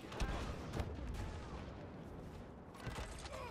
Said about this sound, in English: he can't dodge all of our blaster fire forever